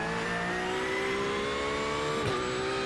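A Porsche race car engine in iRacing on the Chicago Street Circuit, a steady mid-pitched drone that holds a sustained tone and slowly rises in pitch, with one brief shift near the end.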